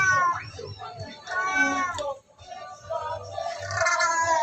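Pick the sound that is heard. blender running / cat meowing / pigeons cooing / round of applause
cat meowing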